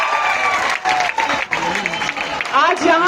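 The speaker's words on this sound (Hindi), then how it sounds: "जोरदार तालियां" Audience applause and cheering fill a seminar hall in Prayagraj, a loud, dense wash of clapping with crowd noise, mixed with a voice speaking over it.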